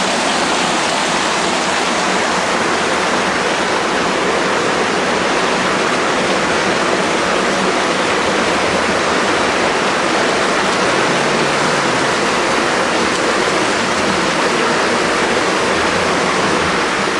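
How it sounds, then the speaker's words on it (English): Rainwater runoff pours off a construction site in a loud, steady, unbroken rush of flowing water, dense and close like a small waterfall. "There's that water coming off, especially off this construction site."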